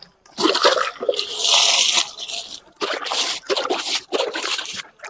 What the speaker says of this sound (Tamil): அதனால் இந்த தண்ணி கொஞ்சம் மெதுவாக சிதறாமல் ஊற்றுங்க